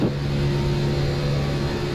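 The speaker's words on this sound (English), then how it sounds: "I love that Eric sounds like he's really in a race car." A race car engine in the iRacing video game hums at a steady high rev, a constant droning tone that holds evenly throughout, close and fairly loud.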